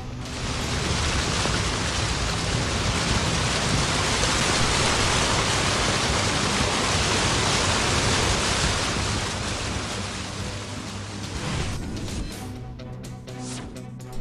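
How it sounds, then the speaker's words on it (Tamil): Heavy monsoon rain pours steadily in northern India, a dense, loud hiss of falling water that fills the scene evenly before thinning slightly and breaking into scattered sounds near the end. "கொட்டி வரும் கனமழையால் சாலைகள் குடியிருப்புகள் வெள்ளக்காடாக மாறின"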